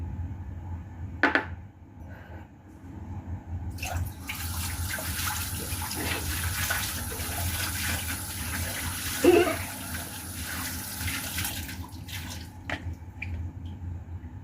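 Water runs and splashes steadily into a pot or bowl as hot water is poured for blanching soup ingredients, with small clinks and drips over a continuous close stream.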